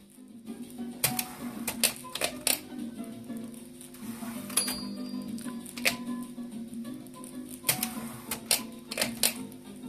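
A manual typewriter clacks in sparse bursts of sharp keystrokes while the paper is underlined with a pencil set in the type guide, close and clear over a low steady hum.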